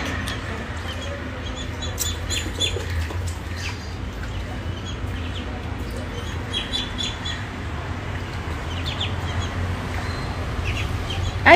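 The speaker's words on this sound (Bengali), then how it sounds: "আইজান তোমার কি পছন্দ হয়েছে হাঁসগুলো?" A small group of ducklings peep in thin, high chirps, scattered and overlapping, that continue close by over a low background hum.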